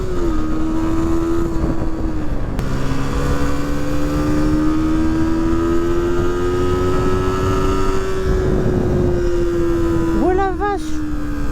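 A Moto Morini X-Cape motorcycle engine drones steadily at full throttle on a mountain trail ride in Corsica, its pitch slowly rising and falling, loud and close under heavy wind noise.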